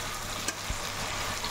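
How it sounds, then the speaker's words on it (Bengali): Chowmein frying with salt and Maggi masala in an oily pan, giving a steady close sizzle with a few brief stirring knocks and no talking. "ভালো করে ভাজা ভাজা করে নিই।"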